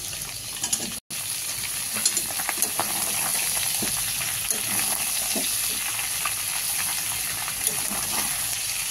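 Vegetables for a Bengali labra curry, added to a pan where fish heads were just fried, sizzle steadily in oil, close and continuous, with occasional clinks and stirring scrapes and a brief dropout near the start.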